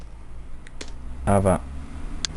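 Someone types on a computer keyboard while adjusting text in a spreadsheet cell, with a short burst of clicking keystrokes near the middle and a few isolated taps around it, quiet and close.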